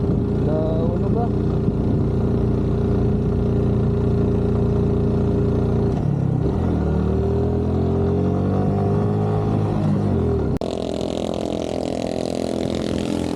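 A loud motorcycle exhaust drones steadily during a road trip between Cebu, Negros and Mindanao, with engine pitch shifting as the bike rides along under constant wind and road noise.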